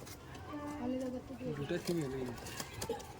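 A teddy pigeon, a high-flying breed from Murshidabad, gives a run of close, rolling coos that rise and fall, with someone speaking alongside the calls.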